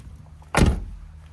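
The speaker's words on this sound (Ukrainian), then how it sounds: "Дверки гарно закриваються" A single solid thud of a 2010 Renault Trafic van door shutting, close and fairly loud, against a quiet low background hum.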